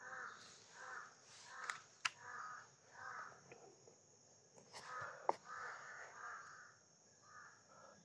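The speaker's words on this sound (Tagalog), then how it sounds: "Dami ibon na uwak." Several crows caw repeatedly at a distance, harsh calls overlapping in an irregular rhythm, with a few sharp clicks and a faint insect hum behind.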